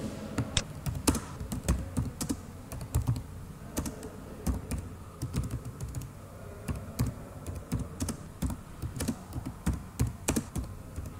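Rapid typing on a computer keyboard, dense irregular clicks and key taps close by throughout, without talk.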